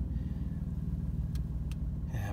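A BMW F82/F83 M4 or F80 M3 engine idles steadily, a low, even rumble with a pulsing throb close by, and a couple of short higher clicks or chirps sound near the end.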